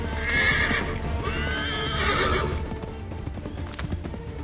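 Horse hooves clip-clop at a gallop and a horse neighs loudly in the Assassin's Creed 3 video game, with steady rhythmic hoofbeats and a whinny standing out over game background sound.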